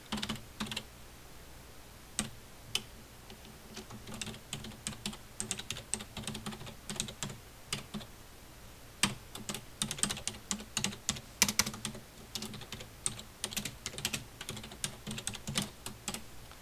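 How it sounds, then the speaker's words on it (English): Fingers tap out an email address on a computer keyboard, a steady run of close, crisp keystrokes with short pauses between bursts and a faint background hum. "I'll type that out for you"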